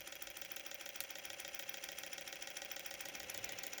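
A Newman motor with a 3D-printed commutator spins in reverse, giving a faint, steady, buzzing mechanical hum with a fast rhythmic flutter that holds throughout.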